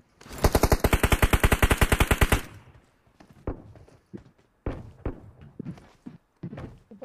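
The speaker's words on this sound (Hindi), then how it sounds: "उधर से बंदे फायर दे रहे हैं वेयरहाउस से" Rapid automatic gunfire from a BGMI battle royale match, a loud burst of about twenty evenly spaced shots lasting two seconds, followed by scattered single shots and thuds at varying distances.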